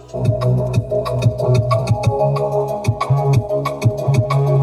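A new replacement BMW car speaker plays music with a steady low bass line and rhythmic ticking beats, full and loud throughout with no talking.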